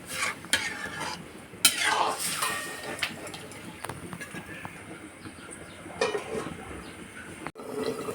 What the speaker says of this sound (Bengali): ঝোলটা দেওয়ার পর নেড়ে চেড়ে আমরা আবার এটাকে ঢেকে দেব।